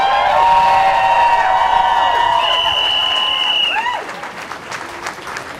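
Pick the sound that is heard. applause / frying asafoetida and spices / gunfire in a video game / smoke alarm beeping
applause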